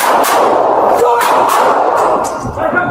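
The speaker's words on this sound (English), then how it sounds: "there's more gunshots going on" Repeated sharp gunshots crack out several times in quick succession during an active shooter incident inside a building, loud and echoing, over a noisy, chaotic background.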